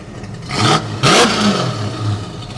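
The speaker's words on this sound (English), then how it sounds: "Jim, rev the engine, sir." A loud, close 1971 Dodge Super Bee engine revs hard twice in quick succession, rumbling between bursts and dropping back toward idle.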